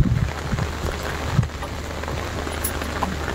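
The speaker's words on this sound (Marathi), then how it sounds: "पाऊस आला बघ." Rain falls steadily on a farm field, a dense even hiss with a few soft low thumps near the start.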